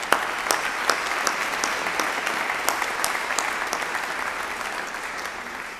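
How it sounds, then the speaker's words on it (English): Steady audience applause at a 2016 Maxwell School graduate convocation honoring a professor, a dense wash of many hands clapping with a few sharper nearby claps standing out, sustained evenly throughout. "let's have a round of applause for Professor Deborah Pello"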